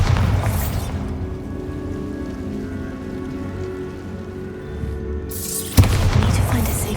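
Bombarda spell blast from Hogwarts Legacy, heard as a sustained rumbling, crackling roar that fades, then a sharp loud burst near the end.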